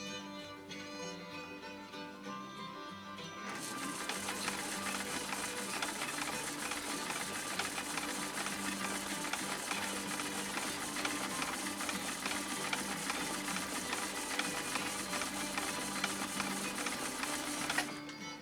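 A 1972 Kenmore 1318 sewing machine starts up after a quiet moment and runs steadily through two layers of elk hide, its rapid, even mechanical stitching close and continuous without talk.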